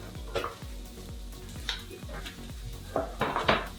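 Green beans being stir-fried in a pan for shrimp fried rice, with repeated scraping clinks of a utensil against the pan over a soft sizzle, close and rhythmic, no talking.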